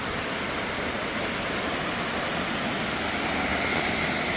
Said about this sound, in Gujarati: જો પહાડમાંથી આવે પાણી.